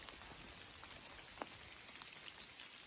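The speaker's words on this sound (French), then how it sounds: "Il pleut abondamment depuis déjà 2 jours." Heavy rain falling steadily in a forest, with a dense patter of drops on leaves and ground and a few sharper nearby drips standing out, no voices.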